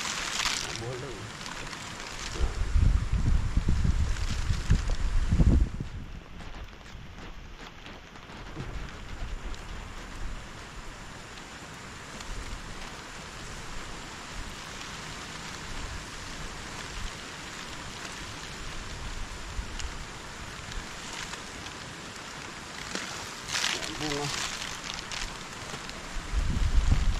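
Steady rain with gusting wind at a chili pepper farm, a broad continuous hiss rising and falling, with occasional louder rushes and faint voices underneath.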